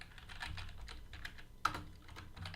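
Someone types JavaScript code on a computer keyboard, producing a quick, irregular patter of soft clicking keystrokes close by, with one sharper key tap midway and no voice.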